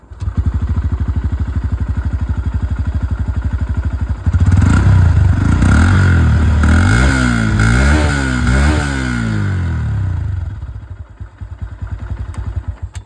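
A Honda CB125 Hornet motorcycle engine idles with a rapid steady putter, then revs up loudly several times in rising and falling bursts before settling back to idle.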